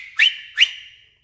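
Two short, bright whistled chirps made by mouth without fingers, each rising sharply and trailing into a thin sustained tone, clear and close with no talking.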